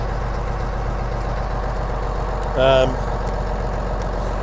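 A steady low engine idle from a BMW R600 drones throughout, with a brief tonal burst of a voice or horn-like sound near the middle.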